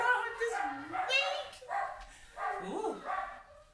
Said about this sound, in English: What's he barking at?